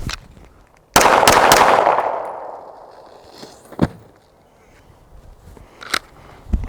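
Three sharp gunshots ring out in quick succession at close range, fired at a body armor vest about three and a half yards away, followed by a lingering outdoor echo and a few fainter knocks.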